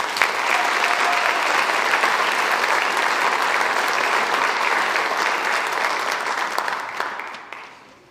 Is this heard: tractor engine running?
no